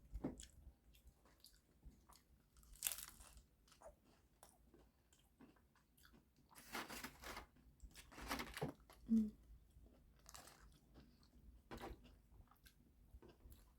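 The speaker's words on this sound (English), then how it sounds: "So first bite without any hot sauce." Someone eats a crunchy Taco Bell item without hot sauce, with close, quiet bites and bursts of chewing and crunching spread through the stretch, separated by soft pauses.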